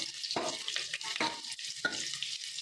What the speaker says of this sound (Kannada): ಒಂದು ಈರುಳ್ಳಿ ಹಸಿಟ್ಕೊಂಡಿದ್ದೀನಿ ಅದನ್ನು ಹಾಕ್ತಾ